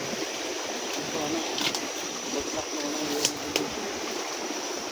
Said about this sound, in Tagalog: So yan, meron na tubig mga tol, no?